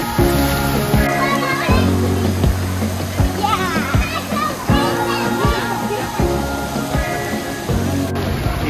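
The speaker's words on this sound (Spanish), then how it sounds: "vean lo que es este sector para niños, especial para ellos, con diferentes jueguitos, baldes, zona tipo chapoteadero" Children splash and play in a shallow kids' water play area with buckets and splash features at the Grand Palladium Costa Mujeres resort, a steady loud wash of running water and kids' voices, with an adult talking over it.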